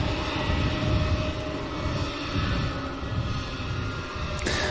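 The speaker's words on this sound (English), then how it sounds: "Ryanair reaches rotation speed." Ryanair jet airliner taking off at Manchester Airport, a steady broad engine roar heard from a distance, fairly quiet and constant throughout.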